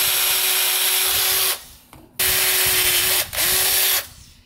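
A power tool drives a bolt into a DIY engine crankcase built from an old compressor, three loud sustained whirring bursts separated by brief pauses, close up.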